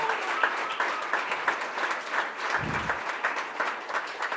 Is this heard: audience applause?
yes